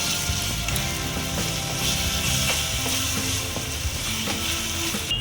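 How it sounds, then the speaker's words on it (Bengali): Kashmiri red chili powder and turmeric frying in a pan with oil, a dense close sizzle with scraping and stirring clatter running continuously throughout. "মশলাটা ভাজা ভাজা হয়ে গেছে"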